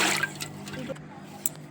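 Water is poured from a flour-measuring container for Telangana-style appalu dough, a short splashing trickle up close while a person talks.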